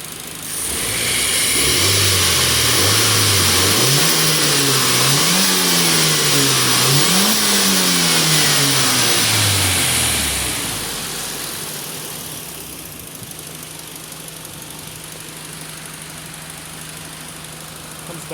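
Nissan S13 hatch's SR engine revved up close in repeated rising and falling throttle blips for several seconds, then settling back to a steady, quieter idle.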